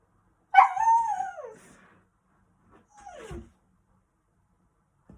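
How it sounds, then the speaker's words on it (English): An excited dog lets out a loud, drawn-out whining yelp, then a shorter falling whimper a couple of seconds later, both close and alone in an otherwise quiet room. "Right, I'm just going to let the dog out,"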